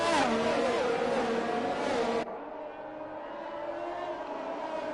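F1 race cars in F1 2021 at the Hungary circuit, a Ferrari among them: high-pitched engine whine sweeping and shifting tone, loud at first then cutting abruptly to a quieter, more distant engine drone.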